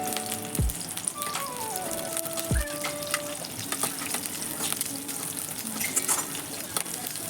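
Green chilies frying in a pan for Vadodara-style green chevda, a steady low sizzle and crackle throughout, fairly close, with a couple of faint electronic tones over it.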